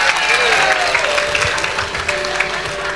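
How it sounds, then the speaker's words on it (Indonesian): Applause from a church audience, moderately dense and steady over a few seconds, with voices murmuring and calling out underneath. "Yang setuju tepuk tangan"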